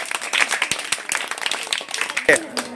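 Children at a Friday motivation class held at a home clap in a quick, scattered burst close by, while someone talks over the clapping.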